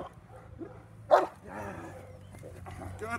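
A young Cane Corso, about eight months old, gives a single loud bark during a car protection drill, with quieter dog noises and background murmur around it.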